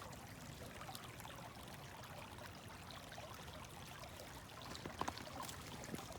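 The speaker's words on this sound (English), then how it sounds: "You can hear the water flowing over it." Water flows over a beaver dam on a river at Balmoral, a steady soft rushing and trickling that continues throughout, fairly quiet and with no voices.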